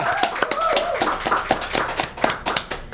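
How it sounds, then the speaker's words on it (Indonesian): Guests at a talk-show podcast taping give a round of hand claps for the guest, Mr. AM Solusi, the sharp claps close and irregular, with a voice mixed in beneath them. "Tepuk tangannya dong."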